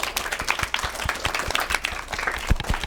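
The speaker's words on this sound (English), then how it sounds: "Let's give them a round of applause." Audience applause in a library, a run of distinct, fairly close hand claps that continue steadily throughout at moderate volume, with no talking.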